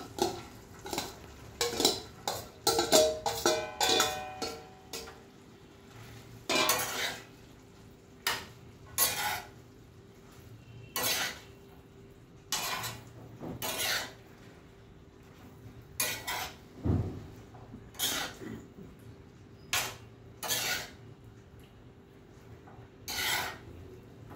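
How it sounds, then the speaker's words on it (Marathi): Snake gourd is tipped into a pot of cooked dal and stirred, giving clinking and scraping strokes of a spoon against the pot in irregular bursts, fairly close and with no talk. "आता आपण ह्याच्यात पडवळ घालूया"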